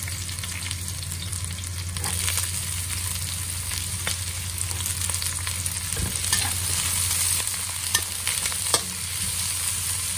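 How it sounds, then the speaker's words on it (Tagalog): Onion, garlic and ginger sauté in oil in a pan for lamb soup, a loud continuous sizzle with scraping stir strokes and occasional clinks, close and without talk. "Antayin lang hanggang mag-brown ang ating sibuyas, bawang at luya."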